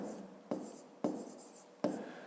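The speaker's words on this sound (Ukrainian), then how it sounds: "і записуємо пояснення" Pen scratching across paper while a fifth-grade maths exercise is written out, in several strokes separated by short pauses, close and fairly quiet.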